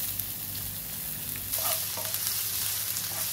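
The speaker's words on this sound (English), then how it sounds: "Now the oil is hot, we'll add these onions." Onions frying in hot oil in a pan, a continuous close sizzle with occasional stirring clinks and crackles, fairly quiet and without talk.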